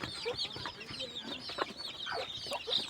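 A large hen clucks among her 13-day-old chicks, a close run of soft repeated clucks mixed with high thin peeping from the chicks, steady and fairly faint.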